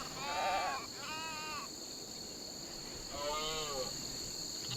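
Sheep bleat in the RimWorld video game, a few wavering calls at moderate distance separated by pauses, over a steady high insect-like hum of game ambience.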